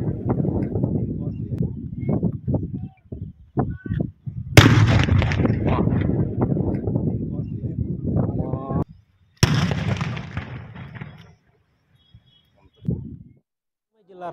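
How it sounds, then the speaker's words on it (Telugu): Police detonate seized bombs in a deserted open area, producing two sudden loud blasts that each trail off into a long rumbling decay, with a narrator talking over them. "ఆ బాంబులను స్వాధీనం చేసుకుని నిర్మానుష్య ప్రాంతంలోకి తీసుకుని వెళ్లి వాటిని పేలుస్తున్న దృశ్యాలు"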